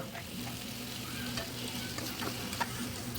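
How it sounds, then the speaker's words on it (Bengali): Hilsa fish frying on its second side with spices in a pan; a soft, steady sizzle runs throughout with faint clicks of stirring, quiet and close. "দিয়ে ঠিক একইভাবে একটু মশলার সঙ্গে অপর পাশটাও একটু ভেজে নেব"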